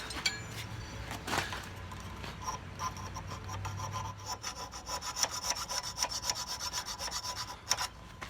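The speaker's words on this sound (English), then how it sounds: "it's just file and check. File and check." A hand file rasps back and forth across a forged steel knife guard being fitted to the tang, steady rhythmic strokes close up with short pauses, no voices.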